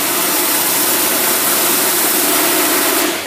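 A car engine fitted with a Holley 2-barrel carburetor held at high revs on a test run, a loud, dense, unbroken roar that barely wavers before easing off right at the end.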